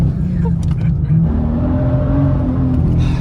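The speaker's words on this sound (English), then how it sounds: "Das ist die Ansaugung, Baby." A deep, steady engine roar from the intake of a BMW M2 (F87), close and continuous, with a voice speaking briefly over it.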